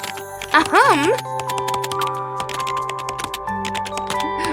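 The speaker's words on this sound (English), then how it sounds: "His slender fingers swiftly dance across the keyboard, producing a constant click-clack sound." Rapid keyboard typing from the game Love and Deepspace, a steady stream of light click-clacks running under music with chime tones and melodic swells, with a soft voice-like vocal sweep early on.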